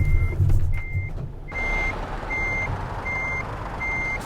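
Reversing beeps from a truck in the Euro Truck Simulator 2 video game sound as a steady series of five or six evenly spaced electronic tones over low engine rumble.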